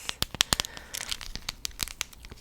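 Plastic packaging from a resin art set crinkling close up, a quick irregular run of sharp crackles and crisp snaps, loud and near with no voices.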